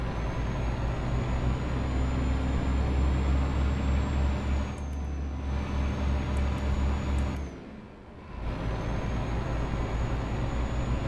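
A Scania truck engine in Euro Truck Simulator 2 drones steadily and loud at high revs, with a brief drop in power partway through and a longer lull near the end before it climbs again; no talking.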